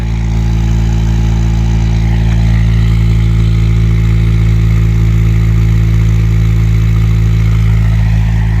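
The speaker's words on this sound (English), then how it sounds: "Here's the cold start idle." A Honda K20-swapped Honda Insight idles steadily after a cold start, close and loud, with a constant low, even engine hum and no talk over it.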